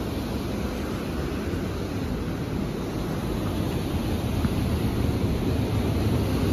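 A swollen village stream in rural Nepal rushing after rain, a loud, dense, continuous roar of water close by, steady throughout with no voices.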